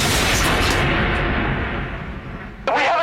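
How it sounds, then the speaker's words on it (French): An explosion in a family van gives a loud, sustained booming rumble that slowly fades, followed by a sharp new burst near the end. "une explosion se produit"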